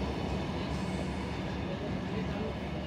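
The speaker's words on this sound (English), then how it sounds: "This is fast Tejas express." A fast Tejas Express train rushes past with a steady, loud rumble of wheels and carriages that fills the whole stretch without a break.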